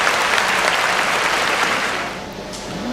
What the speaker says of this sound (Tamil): உடனடியாக உங்கள் கைத்தட்டலோடு கடலூர் தணிகைவேல் அவர்கள் நல்ல உற்சாகமான கைத்தட்டல்.